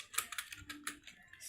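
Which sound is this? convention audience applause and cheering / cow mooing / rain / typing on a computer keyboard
typing on a computer keyboard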